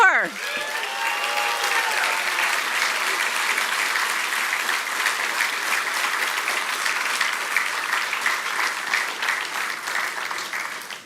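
A large audience applauds steadily at a Doctor of Physical Therapy hooding and pinning ceremony for the graduating class of 2024. Dense, sustained clapping fills about eleven seconds after a brief opening voice, then tapers at the end.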